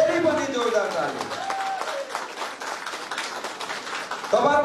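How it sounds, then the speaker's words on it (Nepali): Audience applauding at a party merger event, brisk clapping running throughout beneath a voice talking over it, with a louder burst near the end. "ताली बजाइदिनुस् जोडले"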